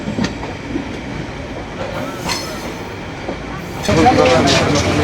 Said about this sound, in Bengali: নির্ধারিত সময় হতে 35 মিনিট বিলম্বে প্রবেশ করেছে পোড়াদহ জংশনে কপোতাক্ষ এক্সপ্রেস ট্রেন